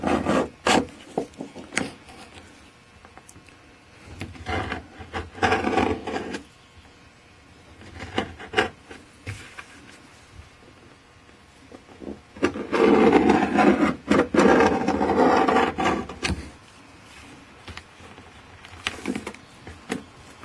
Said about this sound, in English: Next thing I'm going to do is rake it out with my modified screwdriver here.